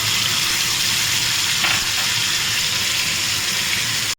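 Onion, ginger, garlic, green chilli, cumin and coriander masala fry in a pan with a steady, close hiss and sizzle that holds evenly throughout, no talking.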